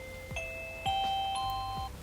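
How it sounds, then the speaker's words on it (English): A classroom doorbell rings as a clean-up signal, a soft electronic chime playing a few clear, stepped notes in sequence against a quiet background. "one of the first things that I introduced them to was actually my doorbell"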